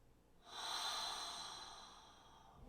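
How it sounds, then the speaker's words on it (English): A single slow yoga breath, a soft, close airy inhale through the nose that swells and then fades into a gentle exhale through the mouth, heard alone in a quiet room. "Inhale through your nose. Exhale out the mouth."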